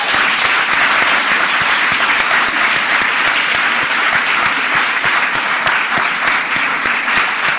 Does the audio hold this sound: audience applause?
yes